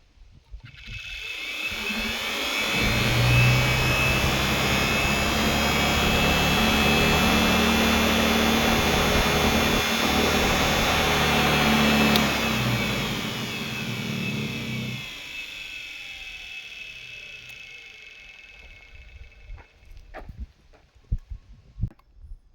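A universal motor powered by two 330-watt solar panels wired in series spins up and whines loudly and steadily for about ten seconds, then winds down and fades, leaving a few faint clicks and knocks.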